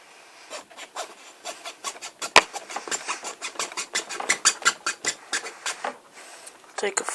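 A file rasps notches into a wooden clothespin in quick, rhythmic back-and-forth strokes, close and sharp, with a few pauses between bursts.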